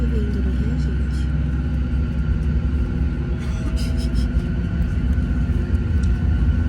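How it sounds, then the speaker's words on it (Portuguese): Inside a passenger airliner moving on the ground before takeoff in Rio, a loud, steady engine rumble and cabin hum persist throughout, with faint cabin sounds on top. "Olha o avião indo no Rio, gente."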